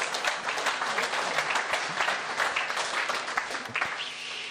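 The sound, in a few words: audience applause at election debate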